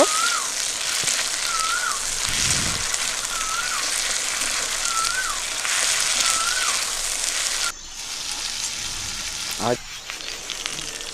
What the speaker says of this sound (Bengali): একটু লাল লাল করে ভেজে নেব রসুন বাটা দিয়ে দিচ্ছি কাঁচা লঙ্কা বাটা